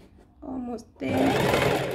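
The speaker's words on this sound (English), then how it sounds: "And then I'm going to stitch the last row" A sewing machine stitches a pleated cushion cover with a steady, close mechanical whir that runs briefly, pauses, then starts again, while a person talks over it.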